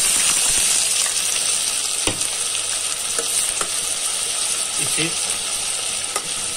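Finely chopped onions fry with cumin in a pan for soya keema chaap, a steady close sizzle with occasional scraping stir clicks throughout.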